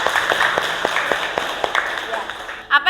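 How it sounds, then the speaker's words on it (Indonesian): Scattered claps and light applause from an audience at a university teacher-education presentation in Indonesia, fairly steady for a few seconds, with background chatter underneath. "beri tepuk tangan untuk Muhammad Sri Mujiono."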